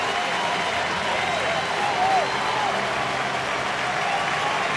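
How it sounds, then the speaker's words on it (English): A baseball crowd in Atlanta applauds and cheers as the pitcher leaves the game, a steady, broad wash of clapping and crowd noise with a commentator talking over it. "he'll get a big ovation from this crowd in Atlanta"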